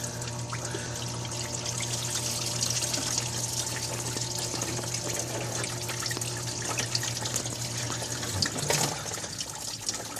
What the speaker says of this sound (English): there's going to be a little more fluid coming out here